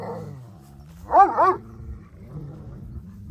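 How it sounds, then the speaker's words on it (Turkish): A Kangal dog gives a couple of quick, rough barks with a growling edge, close by, then settles into low background noise. "tellerden birinize havlayıp duruyorsunuz ya"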